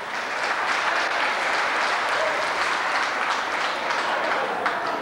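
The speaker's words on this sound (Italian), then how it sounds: "Un grande applauso per favore." A crowd claps steadily and fairly loudly throughout, a continuous wash of applause without pauses.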